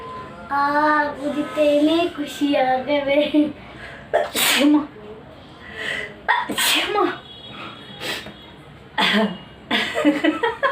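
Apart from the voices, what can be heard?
sneezing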